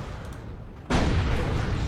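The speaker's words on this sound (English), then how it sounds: "Predator tank getting shots in." A Predator tank in a Warhammer 40k video game fires, a sudden heavy booming burst that cuts in abruptly and sustains as a loud rumbling roar.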